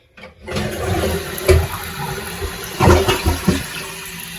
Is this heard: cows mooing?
no